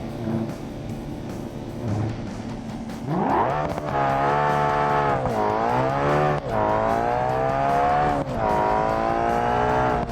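A nitrous-fed Bolide drag car in BeamNG makes its final pass, engine roaring loud and close, rising and dipping in pitch through several gear changes after a quieter idle at the start.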